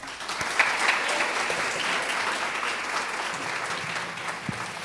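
An audience applauds warmly to welcome speakers at an evening book launch, a steady, even wash of many hands clapping that goes on throughout, moderately close, with no talking over it.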